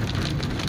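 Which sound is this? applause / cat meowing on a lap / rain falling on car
rain falling on car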